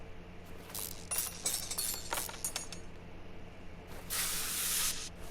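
Cleaner sprayed onto a dirty motor in Car Mechanic Simulator 2021, several short hissing spray bursts in quick succession followed by a longer spray, with faint clinking in the background.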